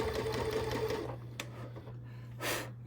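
Domestic sewing machine stitching a meandering free-motion pattern on a charity quilt, a steady close whirring hum that runs continuously, with a couple of brief clicks and a short burst of fabric handling near the end.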